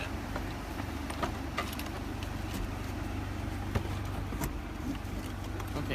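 A Nissan Altima, 2013 or newer, idling with the air conditioning running, a low steady engine hum with scattered clicks and light rattles close by.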